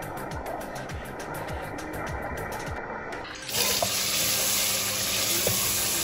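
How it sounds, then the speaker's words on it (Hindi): Onions fry in a pan on a home kitchen stove, giving a steady, close sizzle that grows louder and brighter partway through as more heat or oil catches, with no talking over it. "यहाँ प्याज फ्राई हो रही है"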